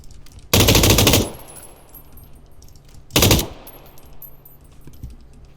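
PUBG gunfire: two loud bursts of rapid automatic fire from the player's own position, the first lasting about a second and the second shorter, each fading into quiet ambient game sound.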